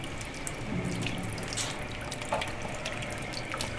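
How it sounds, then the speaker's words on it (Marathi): Water leaks through a kitchen wall, giving a steady trickling, running-water hiss close by with a few faint drips and no voices. "हे बघा भिंती मधनं पाणी लिक होत"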